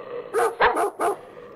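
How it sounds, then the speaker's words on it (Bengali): A pack of dogs barks at night in the rain, three or four sharp, close barks in quick succession with brief gaps between them. "এক ঝাঁক কুকুরের ঘেউ ঘেউ শব্দে"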